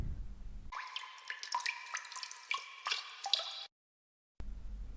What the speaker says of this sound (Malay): Yang pertama, bunyi air yang menitis.